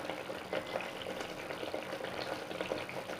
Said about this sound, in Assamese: চাওকচোন কিমান ধুনীয়াকৈ উতলি আহিছে